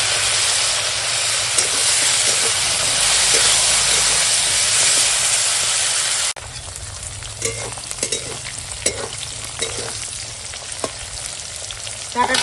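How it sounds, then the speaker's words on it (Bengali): Tomato tossed into fried onions in a pan hisses with a loud, dense sizzle, then settles into a quieter bubbling fry with scattered stirring clinks and scrapes. "পেঁয়াজটা এখন ভাজা হয়ে গেছে এখন দিয়ে দিলাম টমেটাটা"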